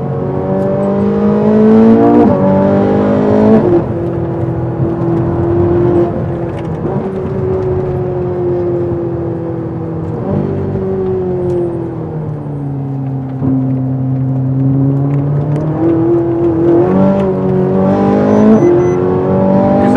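A race car on a circuit, its engine loud and close, revving up and falling back as it shifts through gears in one continuous drone with no talk.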